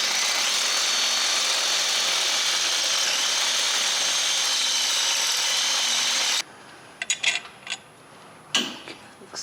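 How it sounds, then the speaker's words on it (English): A power drill steadily bores out a brake hose bracket mounting hole on a Jeep JL Wrangler, enlarging it to half an inch; loud continuous whine for several seconds, then stops, followed by a few short handling clatters. "carefully drill out the mounting hole so that it's now a 1/2 inch in size."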